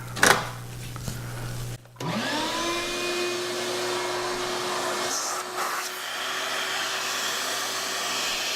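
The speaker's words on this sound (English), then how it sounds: "And again, I'm going to use the dust collector." Workshop dust collector kicking on and spinning up to a steady loud whine and whoosh, running close and continuously after a brief clatter at the start.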